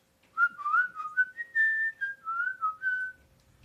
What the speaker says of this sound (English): Just a lip whistle. Tongue whistle.